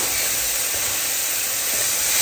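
Bananas frying in butter in a pan, a loud, steady, close sizzling hiss that continues throughout with no break.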